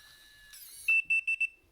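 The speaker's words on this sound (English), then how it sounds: "You hear the little confirmation beep." An RV door latch with a keypad deadbolt gives a series of sharp electronic beeps, one longer tone then three short ones, clear and close after a brief whirring click.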